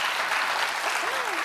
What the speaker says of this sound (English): Someone clap for that.